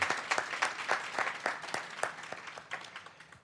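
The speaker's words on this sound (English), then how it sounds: "Can we really give ourselves a hand of applause, round of applause?" Audience applause at a transport symposium session, a round of fairly sparse, distinct claps with a clear beat that gradually thins and fades over a few seconds, with no one talking over it.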